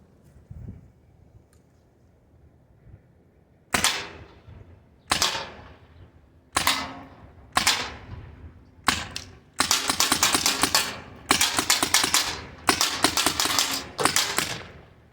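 Byrna Mission 4 CO2 launcher firing pepper rounds: a quiet lead-in, then about a dozen sharp, loud pops, first spaced a second or so apart and then in quick bursts, with no talking.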